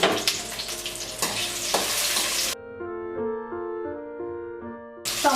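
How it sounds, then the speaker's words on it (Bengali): Tomato and capsicum fry together in a pan for chicken dopiaza, a steady close sizzle with stirring, broken midway by a stretch of music. "এই একইভাবে টমেটো আর ক্যাপসিকাম একসঙ্গে ভেজে নিলাম।"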